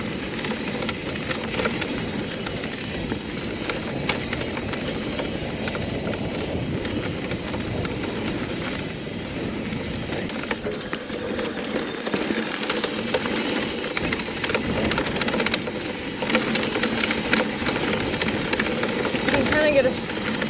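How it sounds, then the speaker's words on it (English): Trek Rail 7 electric mountain bike (2022) on a ride, its motor and rolling noise a steady, continuous rumble and whine throughout, with broadband trail noise rising slightly toward the end. "Get a feel for the sound. I know e-bikes with these batteries on them kind of definitely make more noise on the down."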